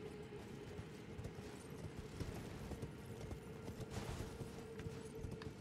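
Horse hooves in the video game Elden Ring, quiet repeated clip-clop footfalls in a steady rhythm over a low droning background, faint and continuous with no talking.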